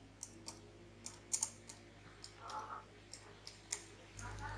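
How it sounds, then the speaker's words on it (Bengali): Light, scattered clicks of a computer keyboard as text is typed, quiet and close, with a low hum underneath. "এখন আমি একটা টেক্সটের মাধ্যমে দেখি, এখানে লিখলাম রিপন"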